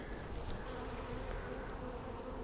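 A dense, steady buzzing hum of many honeybees close up inside a hive, continuous and even throughout, with no other sounds.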